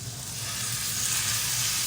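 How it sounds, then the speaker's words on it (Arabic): Chicken pieces fry in a tablespoon of butter in a pan, a steady, dense sizzle holding at constant loudness throughout with no talking. "نحط الزبدة، ملعقة أكل زبدة، بعدين نحط الدجاج عليها عشان نحمرها"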